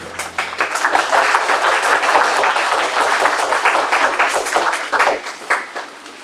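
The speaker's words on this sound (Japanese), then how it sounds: "皆様温かい拍手でお迎えくださ" Sustained applause from an audience welcoming a lecturer at a conference on Japanese views of Singaporean film: dense, steady clapping for about five seconds that thins and stops near the end.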